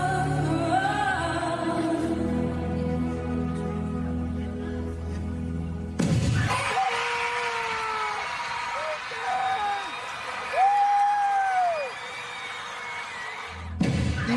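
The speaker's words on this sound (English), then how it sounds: "the entire auditorium erupting in applause" A school auditorium audience breaks into loud, sustained applause and cheering, rising suddenly after a quieter stretch, with a voice talking over the crowd noise.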